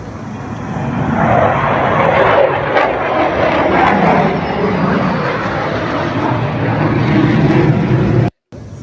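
A fixed-wing airplane flies over near the Washington Monument, its loud engine roar holding steady for several seconds before cutting out briefly near the end.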